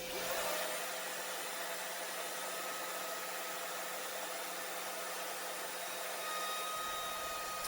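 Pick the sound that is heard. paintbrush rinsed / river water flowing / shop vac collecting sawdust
shop vac collecting sawdust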